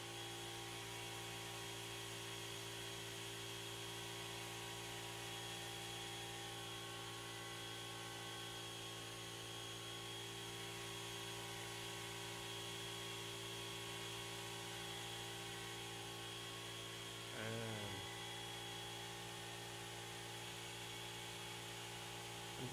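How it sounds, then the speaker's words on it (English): An air compressor hums steadily and continuously, moderately close, with a brief rising whine near the end while a 1:35 Zvezda T-34/76 model tank is airbrushed. "So, sorry about the compressor"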